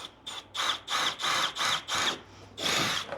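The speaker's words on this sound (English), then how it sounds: "I'm going to drill a hole for the pop rivet" A power drill whirring in several short bursts while drilling a hole for a pop rivet in a kayak seat, pausing briefly between each, with a longer final burst; close and fairly loud.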